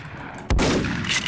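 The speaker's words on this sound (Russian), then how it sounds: "Вместо молота они замутили ружье, ё-моё!" A single loud, close gunshot from a shotgun in the House Flipper video game, with a sharp blast that trails off into a long, rumbling decay.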